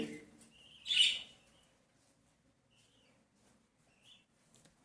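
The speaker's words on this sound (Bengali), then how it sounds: "আর এখানে আমার আছে এক পেয়ার লাভবাগ আর নিচে একটা আরেক পেয়ার লাভবাজ আছে আর আছে আমার সব থেকে পছন্দের পাখি ককটেল পাখি" Pet lovebirds and cockatiels in a cage give a few faint, isolated chirps, one short louder call early on, against an otherwise quiet room.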